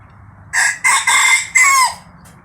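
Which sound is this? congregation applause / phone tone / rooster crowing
rooster crowing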